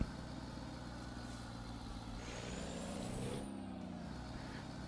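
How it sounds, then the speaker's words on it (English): A truck engine in American Truck Simulator rumbles steadily, and midway an air brake hisses and whistles with a falling tone before the idle carries on. "The truck is always kind of loud when we're this close to it."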